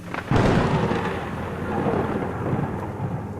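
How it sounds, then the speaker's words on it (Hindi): Heavy rain pours steadily while a deep rumble of thunder rolls through, loud and close, with no voices. "उस रात बहुत बारिश हो रही थी। बिजलियां जोर जोर से कड़क रही थी।"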